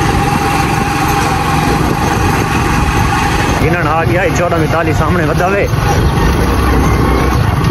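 A motorcycle rides past on a rain-wet village lane, its engine droning steadily throughout with a passing swell midway, mixed with a continuous low idling rumble and someone talking over it.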